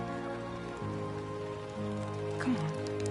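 Steady rain pattering on surfaces in the video game Death Stranding 2, a soft continuous hiss with faint tonal game sounds mixed underneath and no talking.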